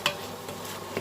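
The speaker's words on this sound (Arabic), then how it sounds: "خليوه يتصوطى لكم اللحيمه ديالتكم" Small pieces of meat sauté quietly in a pan as the base for a barley soup, giving a soft low sizzle broken by two brief spoon or pan clinks, with no talk.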